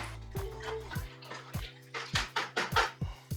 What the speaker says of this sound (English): Now let's mix up our PVA glue solution.